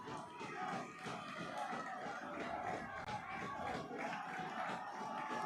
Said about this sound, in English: Crowd on its feet here